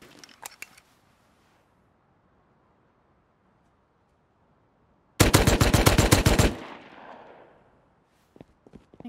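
Gunfire in the survival video game Rust: a short burst of shots at the start, then a long, loud rapid-fire volley of sharp cracks, followed by a fading tail and a few faint clicks.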